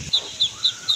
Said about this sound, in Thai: ไก่สีขาว